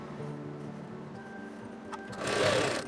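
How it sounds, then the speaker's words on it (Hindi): Sewing machine running a short burst of stitching while attaching the fall to a saree, a steady close-up motor whir that briefly grows louder and busier near the end. "थोड़ी सी डबल सिलाई हम चलाएंगे।"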